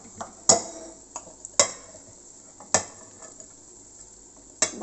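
Grated fresh coconut for Kerala aviyal going into a mixer jar, four sharp, clear knocks of a spoon against the jar spaced about a second apart, with faint soft clatter between them.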